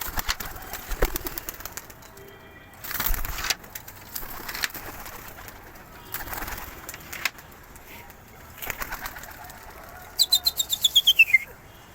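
Pigeons at a rooftop loft in Imbaba, Cairo, cooing and chirping in scattered bursts, with a quick run of sharp, rhythmic calls near the end and a few voices talking in the background.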